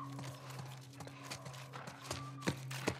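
Horse hooves clip-clop in The Last of Us Part I, a steady walking rhythm of soft thuds over a low engine-like drone, with a couple of sharper hoof strikes near the end.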